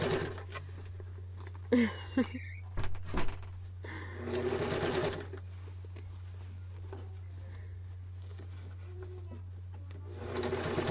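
A sewing machine sews a Kwik Sew K4203 pattern, with a low steady motor hum throughout and a few brief louder bursts of stitching and handling near the start.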